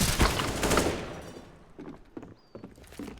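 Counter-Strike: Global Offensive gunfire, a loud burst of rapid shots at the start that quickly fades into a reverberant tail, followed by a few faint, scattered thuds and shots.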